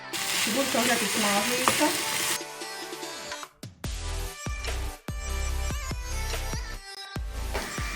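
Smoked sausage frying with onion in a pan for bigos, loud crackling sizzle with stirring, then sharp clattering knocks of utensil against the pan between bursts of frying.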